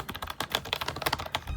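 Quick, close keystrokes on the keyboard of a vintage Apple PowerBook 190 laptop make a brief, dense run of light plastic clicks.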